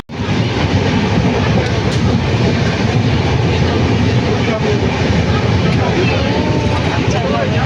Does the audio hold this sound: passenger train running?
yes